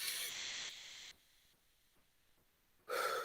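Deep breaths drawn in and let out, heard as loud, close, breathy rushes at the start and again at the end, with a much quieter stretch between them.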